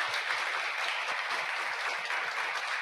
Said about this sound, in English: Por favor, un aplauso de nuevo para ellos.